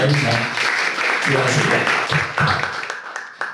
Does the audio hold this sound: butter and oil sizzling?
no